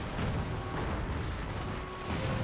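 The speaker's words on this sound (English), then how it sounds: "Incendiary grenade there" An incendiary grenade goes off in a Company of Heroes World War II strategy battle, a loud rumbling burst with crackling pops that stays dense and sustained.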